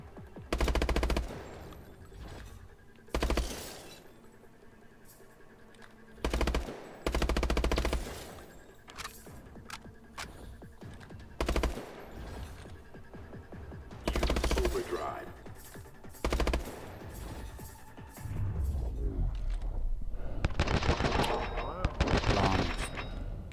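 Automatic gunfire in the Call of Duty Advanced Warfare campaign, loud repeated bursts of rapid shots separated by short pauses, with game sounds and a voice underneath.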